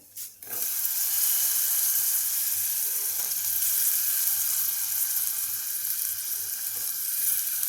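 Potatoes drop into hot masala in a pressure cooker, setting off a loud, steady sizzle of frying that carries on without pause after a brief clatter at the start.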